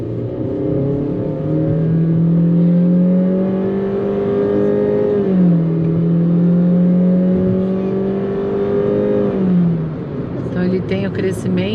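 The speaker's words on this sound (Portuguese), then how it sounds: "Tem o crescimento, né, do câmbio CVT que vocês escutaram." A 2023 Honda City Touring with a CVT transmission pulls hard at full throttle in S mode on a highway, its engine holding a steady droning pitch that dips and climbs again as it accelerates, loud and continuous throughout.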